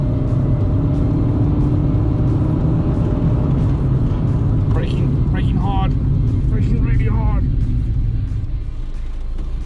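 A non-turbo Fiat Uno drives along a road ahead of a brake test, its engine and road rumble a steady loud drone from inside the car, with a few brief higher engine or tyre tones midway.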